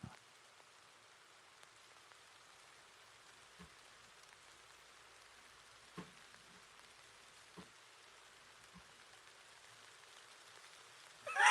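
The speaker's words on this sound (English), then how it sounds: "You hear the rain?" Steady rain falling, a soft continuous hiss with occasional distinct drops hitting a surface, faint and even throughout with no talk.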